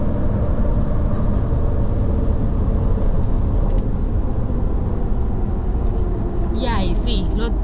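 A Ford Raptor pickup on Hostile H113 22x12 wheels and AMP MT 325/50 mud-terrain tires pulls hard, its engine and road roar forming a loud, steady rumble that never lets up while people talk over it.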